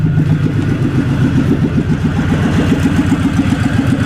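A four-year-old vehicle's engine idles loudly just after a cold start. The rough, rhythmic chug is steady and near for the whole stretch, with no talking.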